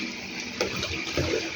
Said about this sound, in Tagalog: Ito din ang gripo na.